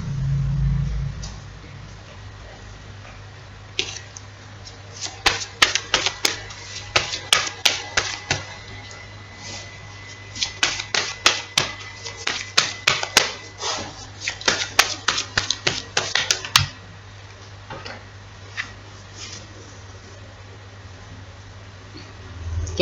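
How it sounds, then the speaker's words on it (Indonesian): Tarot cards are shuffled up close in bursts of rapid, crisp riffling and snapping, with quiet pauses between rounds and a low background hum. "Saya kocok dulu kartunya."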